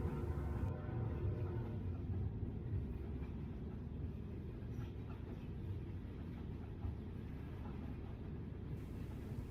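A low, continuous rumble of a freight train hauled by GE ES44C4 locomotives rolling past at restricted speed, steady and moderately distant, with rail noise droning throughout and no voices.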